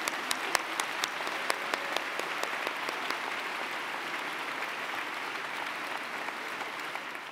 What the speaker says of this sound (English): If everyone would just like to give another round of applause to all our candidates